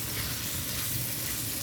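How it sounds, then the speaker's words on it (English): Mutton karahi gravy sizzles in the pan as fresh coriander is stirred in, giving a brief, dense, even hiss and crackle heard up close without talk. "just stir the coriander in"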